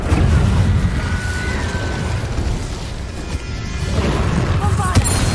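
Loud, sustained roar and crackle of an Incendio fire spell being cast in a video game, with a continuous burst of flame noise lasting several seconds and no voice over it.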